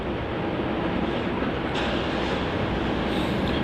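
A Qantas Boeing 717 jet taxis toward runway 34 at Melbourne Airport, its engines giving a steady, broad, even roar that holds at a constant level throughout, with no voices.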